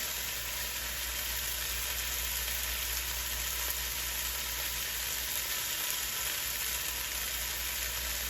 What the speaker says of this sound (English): They are going to continue to cook with the eggs.